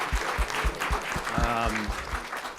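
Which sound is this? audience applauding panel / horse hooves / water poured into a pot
audience applauding panel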